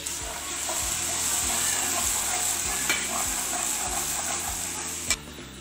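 Steady, loud sizzling of onions and ginger-garlic paste frying in oil, with a spoon repeatedly stirring and scraping the pan in a regular rhythm and a sharp clack near the end.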